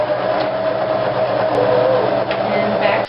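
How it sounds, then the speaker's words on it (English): A sewing machine running a zigzag stitch along fabric edges, a steady mechanical whir with a rhythmic needle clatter, fairly loud and continuous for about three seconds. "So I set my sewing machine to a zigzag stitch to secure the edges."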